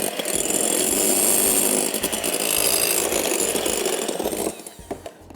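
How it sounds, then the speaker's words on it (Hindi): An electric mixer beats egg whites for a cheese soufflé, a loud continuous motorized whirring with rattling that runs steadily, then drops away into scattered clinks near the end. "सफ़ेदियों को इतनी अच्छी तरह आपने बीट किया है"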